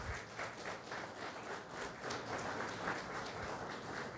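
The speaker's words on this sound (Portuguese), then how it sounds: "Aplauda o Senhor Jesus." Steady applause from a congregation at a church service, a dense, continuous patter of clapping hands that holds at an even level throughout, with no voices standing out.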